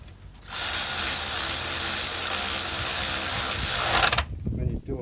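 A ratchet or power tool tightens 14mm brake bolts on an Isuzu NPR during a rear brake overhaul, producing a continuous loud buzzing whir for several seconds before cutting off, followed by quieter clatter and faint talk.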